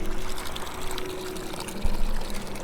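Water runs from a roadside tap into a container during an RV trip through Idaho and Montana, a steady close-up pouring gush with a slight bump in flow near the end.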